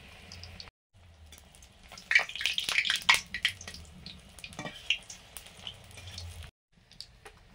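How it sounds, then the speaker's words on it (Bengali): Green chilies frying in hot oil alongside fritters, a steady close sizzle and bubbling crackle that swells loudly in the middle before settling back to a softer hiss. "লঙ্কাগুলো গরম তেলে টান করে উঠলো"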